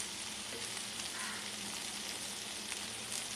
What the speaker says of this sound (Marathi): आता मी भेंडी फ्राय करून ठेवली आहे, ती आतमध्ये परतून घेते.